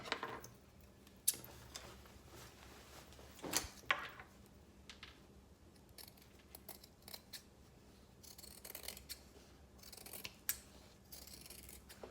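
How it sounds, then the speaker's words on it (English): Scissors snip through two layers of fabric held together, giving sharp, close blade clicks and rasping cuts spaced unevenly with quiet handling rustles between them. "by tracing 2 pieces of fabric together, you are going to cut out both of them at the same time"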